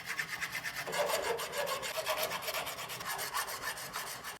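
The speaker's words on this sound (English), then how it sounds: "I'm gonna file off the top of them and see if I can get it flat" Rhythmic rasping strokes of a metal file scraping across steel front suspension parts of a 1994 Chevy K1500, repeated back and forth at a steady pace, close up and fairly quiet.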